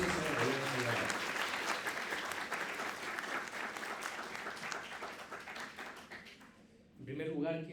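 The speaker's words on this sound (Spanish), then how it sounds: "Así que nuevamente fuertes aplausos" At an international law seminar, an audience claps in loud, sustained applause that thins out gradually. Speech is heard briefly at the start and again as the clapping ends.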